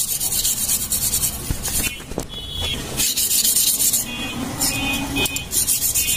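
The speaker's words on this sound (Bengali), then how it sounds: "এভাবে আমরা দুপাশ সুন্দর করে ঘষে দেব" A metal bike engine part is rubbed flat against sandpaper in uneven, gritty scraping strokes, with some louder passes and short pauses, heard up close without speech.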